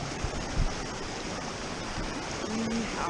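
Stream water rushes steadily at a backpacking trail crossing near Sandbeach Lake in Rocky Mountain National Park, a close, continuous broadband roar.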